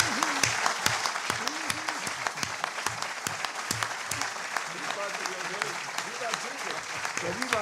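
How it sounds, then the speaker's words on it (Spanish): A crowd applauds steadily with dense, sustained clapping, fairly loud and continuous at a public gathering in Chile. "vamos a darle un gran aplauso a Antonio por habernos visitado"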